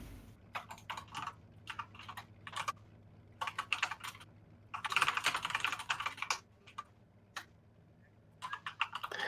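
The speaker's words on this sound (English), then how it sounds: "The Die is typing." Rapid bursts of keystrokes on a computer keyboard at a motocross race broadcast desk, clattering in uneven clusters with a dense flurry mid-clip over a low steady hum.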